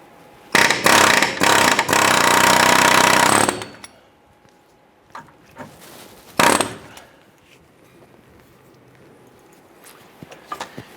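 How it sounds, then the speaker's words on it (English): Pneumatic air chisel hammering a seized metal sleeve off the rear upper forward control arm bolt of a 2005-2010 Chrysler 300, a loud rapid burst for about three seconds, then a brief second burst amid quieter clanks. "Now we're going to use our air chisel here and go ahead and work that metal sleeve off"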